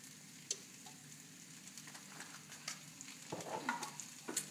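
Chicken seasoned with adobo being stirred in a frying pan, a faint steady sizzle with scattered utensil scrapes and clicks that grow busier toward the end, and no talking.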